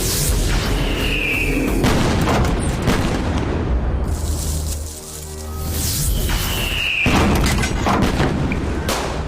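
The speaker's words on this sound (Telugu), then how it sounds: "టపాకాయలు చప్పుడురా." Firecrackers bursting in rapid, dense succession, loud and close, a near-continuous crackling roar that dips briefly mid-way before resuming, with no speech.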